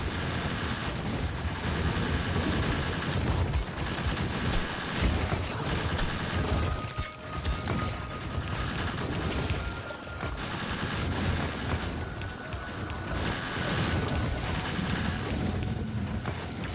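Dense, sustained automatic gunfire from a video game, with shots rattling continuously throughout as ammo is wasted, loud and close with no pauses.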